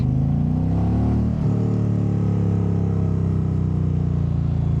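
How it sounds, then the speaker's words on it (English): While riding, the V-twin exhaust of an Indian Challenger Dark Horse 112 motorcycle rumbles loud and close, dipping briefly as if on a gear change and then droning steadily on. "Hopefully that exhaust is coming through on the mic."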